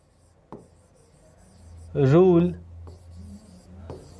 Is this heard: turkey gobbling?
no